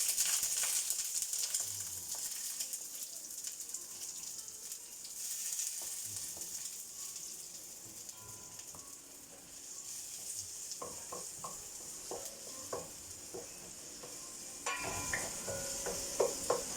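Garlic sizzles in hot oil in a pan, a steady close hiss with scattered crackles and light clinks of a utensil stirring, continuing alone without talk.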